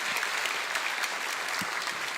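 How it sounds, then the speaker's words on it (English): An audience in a church applauds a soloist and bandmaster at a Christmas concert, steady moderately loud clapping from many people filling the room from start to finish. "how about another round of applause for our soloist, Beth House, and bandmaster, Mark Barter"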